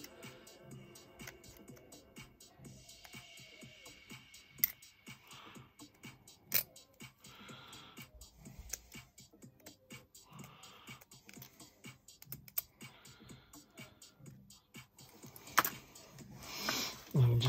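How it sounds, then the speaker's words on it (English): A hand file works a plastic part from an Armory Su-24M Fencer-D model aircraft kit, giving quiet, close, repeated scraping strokes and small clicks in a steady rhythm, with occasional louder knocks and no speech. "just use a file to get in there and do that with it"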